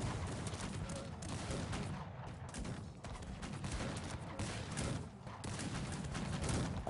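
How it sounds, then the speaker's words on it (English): Musket volleys from musketeers in the Cossacks 3 strategy game, faint, dense crackling gunfire from a distant battle rolling on continuously. "For some reason Einreier is just charging his dragoons into my highly skilled musketeers"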